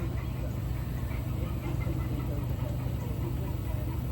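Ducks and other fowl cluck and quack in a constant low chatter nearby, a steady busy barnyard murmur with no clear talking.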